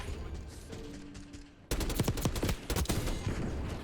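Rapid automatic rifle fire from an AK74 in Call of Duty Black Ops 6 Warzone cuts in abruptly, a dense string of sharp shots after a quieter stretch.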